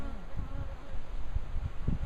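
A honeybee drone buzzes close by at an open beehive during an inspection, a soft, continuous droning hum with a faint voice nearby.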